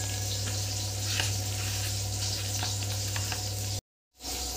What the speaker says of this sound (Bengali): অল্প অল্প অল্প জল দিয়ে এটাকে আমি মাখিয়ে নেব।